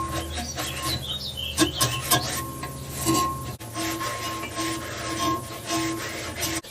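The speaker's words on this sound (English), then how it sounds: "take a wire brush and clean these bolt holes out" A wire brush scrubs debris out of hitch bolt holes on a 2017 Ford Transit 350 XLT, giving a rough, uneven rasping and scraping with irregular strokes close by.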